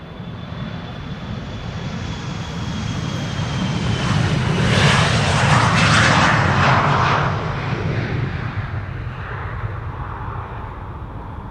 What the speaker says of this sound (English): That was KLM flight 1303 to Gdansk, Embraer 175.